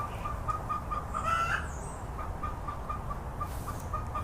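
A neighbour's chickens cluck faintly in the distance in a few short bursts over a steady outdoor background hum.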